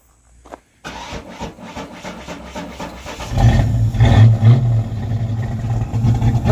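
A rough, rich-running engine in a 1994 Vert convertible car sputters to life after a brief gap, then settles into a loud, uneven, lumpy idle with low rumbling surges close by.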